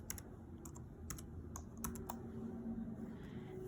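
Fingers tap out an expression on a computer keyboard, giving a run of light, irregular key clicks at close range over a low background hum.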